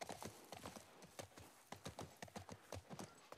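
Horse in The Last of Us Part I, hooves clip-clopping in a steady, fairly close rhythm of repeated sharp knocks throughout, with no talking over it.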